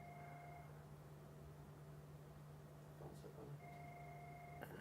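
A telephone rings faintly indoors, with a tone at the start and another near the end over a constant low hum and room noise, no talking.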